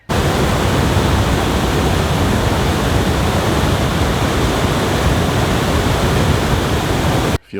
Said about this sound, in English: You'll notice that's a whole lot more water coming over that dam than it was in the last video.